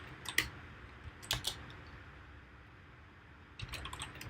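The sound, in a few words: typing on a computer keyboard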